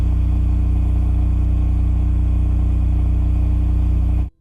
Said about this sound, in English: once again, the RS-20A from Cummins Power Generation